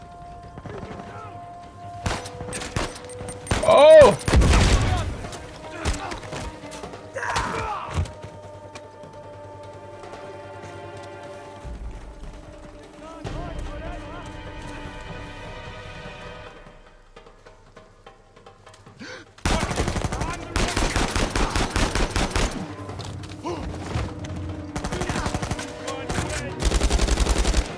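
Gunfire from the video game Uncharted 4 comes in bursts of rapid shots between quieter stretches, with a sustained heavy volley near the end. A man exclaims briefly.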